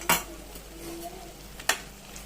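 Chicken sautéing with thick curd in a pan, a soft sizzle with two sharp clinks of a utensil scraping and stirring, near and fairly quiet, without talk.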